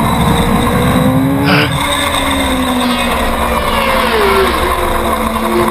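Superstock racing motorcycles in a novice open race at Willow Springs roar loudly and continuously, with engine pitches sweeping up and down as bikes accelerate and shift through the corners.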